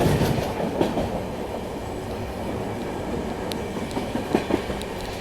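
Alappuzha Dhanbad Express descending a ghat section toward Kotanur junction, with a rumbling, rattling carriage, irregular clickety-clack of wheels over joints and a few sharp metallic clanks, heard steadily from inside the train.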